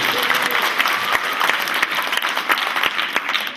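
A crowd at a clown show applauds in a loud, steady burst of many hands clapping together, sustained throughout with no talking over it.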